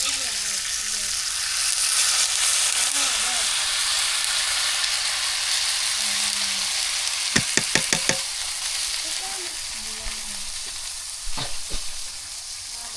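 Rice is poured into a pot of chickpea biryani on a village clay stove and stirred, giving a steady close frying sizzle with a few sharp clinks and scrapes; a faint voice may sit beneath it.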